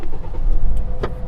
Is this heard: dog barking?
no